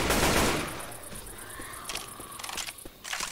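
Rapid automatic gunfire in the zombie shooter Left 4 Dead 2: a loud opening blast, then a rattling stream of quick shots with sharp cracks.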